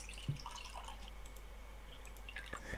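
ASMR water dripping: a few faint, separate drops fall at uneven intervals over a quiet, low background hum.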